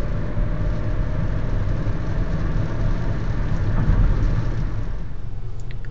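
Heavy rain pours steadily on a night street in Bangkok, with thunder rumbling through a dense, continuous wash of noise and traffic faintly mixed in underneath.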